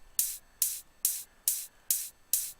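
Grouped trance hi-hats tick in a steady, even pattern of six crisp, bright hits, one roughly every half second, close and alone with no other sound.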